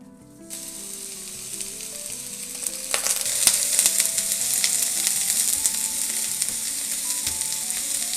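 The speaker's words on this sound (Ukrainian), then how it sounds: "Правильно, ми смажимо цибульку." Sunflower oil sizzles and crackles steadily in a pan as onions fry, the hiss growing louder and denser after a few seconds.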